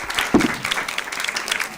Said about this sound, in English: We can give her a big round of applause to them.